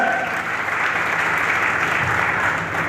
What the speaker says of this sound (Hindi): सबसे पहले कन्हैया लाल वर्मा सर के लिए एक बार जबरदस्त तालियां होनी चाहिए